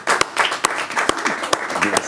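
An audience applauds skipper Roland Jourdain at a sailors' brunch, a steady wash of clapping crowded with a few sharp, loud individual claps, while voices murmur faintly underneath.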